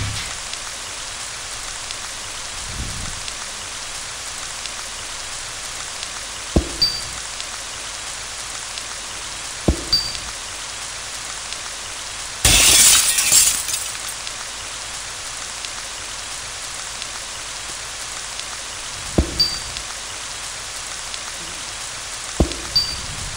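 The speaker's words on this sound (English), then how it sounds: "So why do we want it to rain in this room?" Rain falls steadily inside a room in the Ib game, a constant soft hiss of drops with occasional louder thuds and a short brighter burst midway.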